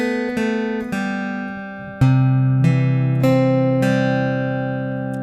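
Acoustic guitar playing a riff, a series of clear plucked notes ringing out and decaying, close and bright with no talk.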